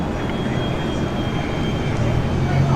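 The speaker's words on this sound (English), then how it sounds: "So we've got the Korean Air 787." Korean Air Boeing 787 airliner in Pepsi special livery at Brisbane airport, a steady low jet rumble held throughout with a faint whine, moderately distant and continuous.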